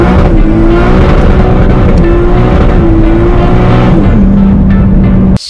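A Subaru with a newly installed intercooler drives along, its engine droning loudly and steadily with pitch climbing and dropping as it changes gears, until it cuts off abruptly at the end.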